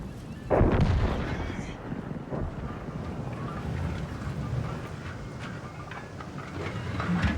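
World of Tanks tank cannon fires once with a loud, sharp boom that decays into a rumbling tail, followed by ongoing low battle and engine noise.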